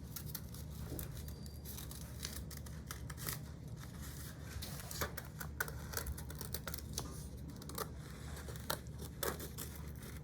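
Scissors cut a field mouse shape out of paper for a craft, making rapid, irregular snips and rustles over a steady low background hum.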